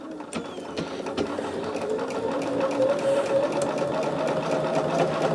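A sewing machine works a decorative heart stitch with a continuous, close mechanical whir and rhythmic ticking of the gears, holding steady and growing slightly louder as it runs.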